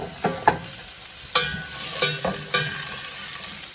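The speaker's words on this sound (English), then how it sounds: "I'm just gonna saute everything until it's translucent." Mirepoix vegetables are sautéed in a pot without oil, with a soft steady sizzle broken by several sharp clacks and scrapes from stirring, close and with no voices.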